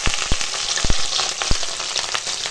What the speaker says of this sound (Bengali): এখানে কড়াই তেল দিয়ে দিয়েছি, তেল হয়ে গেছে গরম, এখন ডিমটা দিয়ে দেবো